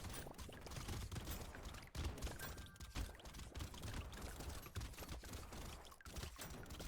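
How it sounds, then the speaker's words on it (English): Constant small explosions and rapid popping weapon fire in the arcade shooter video game Brotato, a dense, steady crackling stream of bursts at moderate, even loudness with no pauses. "you don't have to listen to the constant explosion sounds"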